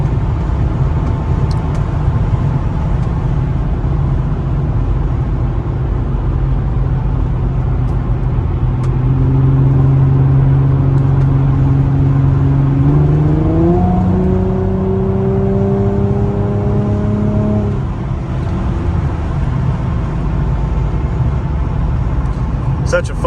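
A 2007 Infiniti G35 Coupe engine drones steadily while driving in a tunnel, the pitch climbing through a couple of gear changes, with loud constant road and engine noise throughout.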